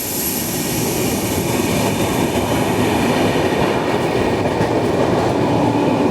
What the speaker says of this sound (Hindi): हमारी ट्रेन अच्छी खासी स्पीड में स्किप कर रही है।